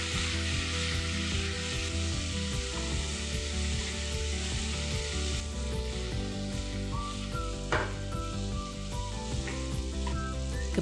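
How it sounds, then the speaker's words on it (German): Bell pepper pieces sizzle steadily in a hot pan while being stir-fried for Kung Pao chicken, with occasional scraping and stirring clatter over the continuous crackling fry. "Paprikastücke in die Pfanne geben und rühren, ca. 30 Sekunden anbraten."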